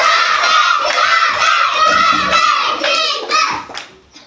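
Schoolchildren at a primary school running game clap and shout together in a loud, lively burst of mixed voices and hand claps, fading toward the end.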